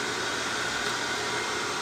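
A hair dryer blows steadily on a styled hairpiece while it is combed, a continuous close, loud airy whoosh with no break and no talk.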